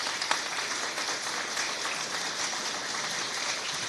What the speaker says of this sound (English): One more round of applause for all of them, please.